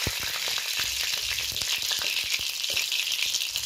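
Cumin seeds and green chili sizzle in hot oil in a pan, a steady close crackle with frequent sharp pops and no talking.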